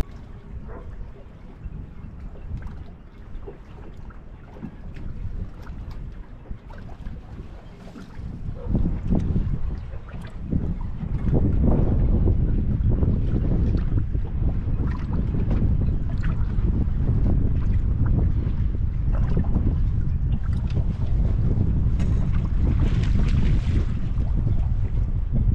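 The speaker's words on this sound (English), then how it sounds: "It is very, very, very windy." Strong, steady wind buffets the microphone on open water from a fishing boat during a cold front, a continuous loud roar that grows heavier about halfway through and stays constant, with no talk over it.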